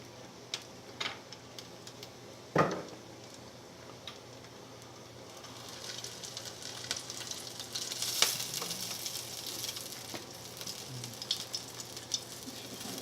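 A hashbrown breakfast sandwich fries in a greasy pan with a steady low sizzle, broken by a few sharp clicks and knocks early on. The frying grows a little busier and louder later.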